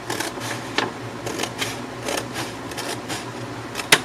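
Scissors cutting paper for a 9x12 envelope folio, a run of slow repeated crisp snips and rustles at close range, no voices.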